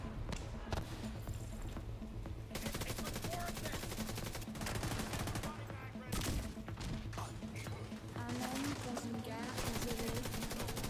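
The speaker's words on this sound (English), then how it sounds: "Everybody's firing at us, and throwing grenades." Enemy gunfire in The Division 2, rapid machine-gun bursts and scattered shots crackling continuously for about ten seconds at moderate distance, with occasional speech mixed in.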